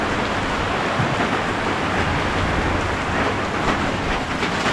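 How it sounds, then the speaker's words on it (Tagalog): Heavy typhoon rain pours down steadily at home, a dense, loud, continuous hiss and patter with no letup and no voices. "lumakas na yung ulan"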